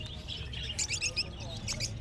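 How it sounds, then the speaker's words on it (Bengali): Small cage birds such as conures and lovebirds chirp at a busy bird market, with bright, overlapping tweets heard repeatedly against a steady low crowd hum. "বেশ কিছু বাচ্চা লাভবার্ড আছে"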